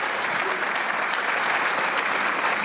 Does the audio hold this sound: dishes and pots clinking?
no